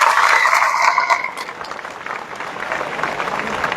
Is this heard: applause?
yes